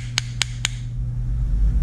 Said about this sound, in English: pop it on the head with my makeshift hammer here